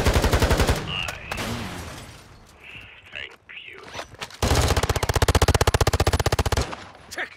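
An AK rifle fitted with a hybrid sight fires in Warzone, with a long rapid automatic burst, a quieter stretch of scattered shots and in-game noise, then another loud sustained burst, all close.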